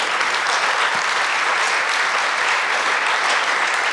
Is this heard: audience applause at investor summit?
yes